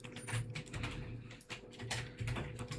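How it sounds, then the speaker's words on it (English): Typing on a computer keyboard: quiet, rapid clusters of key clicks at close range, a few short bursts with slight pauses between, over a faint low hum. "here you want to type in the name of the missing DLL folder"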